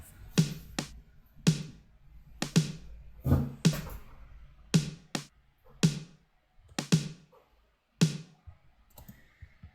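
Playback of a drum track from a song mix, with compressed and EQ'd snares: punchy snare hits over low kick thumps in a steady pattern, fairly quiet, with no other sound.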